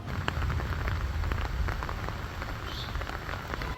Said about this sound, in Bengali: দমকা হাওয়া দিয়ে মুসলধারায় বৃষ্টি শুরু